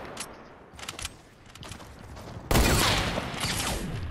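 Rapid video game gunfire bursts in a fast-paced shooter match, with a sharp loud barrage starting midway and continuing densely to the end, preceded by quieter scattered shots.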